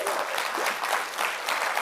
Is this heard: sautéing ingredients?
no